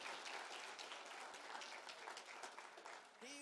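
Church congregation breaks into applause during a sermon, dense clapping from many hands filling the space steadily, fairly distant and faint overall.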